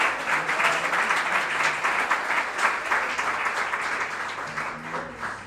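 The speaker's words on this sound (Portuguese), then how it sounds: "Aplauda o Senhor." Congregation applause at a Nova Vida church service in Catete, a steady wash of clapping that holds for the whole stretch, moderately loud and dense with faint voices underneath.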